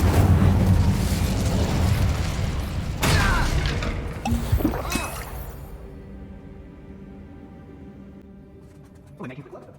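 A fiery Incendio spell from the video game Hogwarts Legacy bursts out with a roaring whoosh, followed by crackles and a sharp pop before the sound fades into quiet background music.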